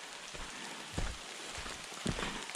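Rain patters onto foliage in dense New Zealand bush, a faint even hiss broken by two louder nearby drips, with no one talking.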